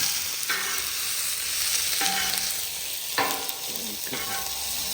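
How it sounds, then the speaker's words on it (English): Onions saute in a pan, sizzling steadily while a utensil scrapes and pushes them to one side several times; the frying sound is close and moderately loud, with no voices. "I kind of like to saute them so when the onion starts getting a little translucent"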